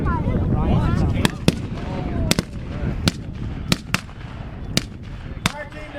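Carbine rifle gunfire in a war video game: a series of sharp, loud shots, some in quick pairs, spaced irregularly over several seconds, with talk and battle noise running underneath.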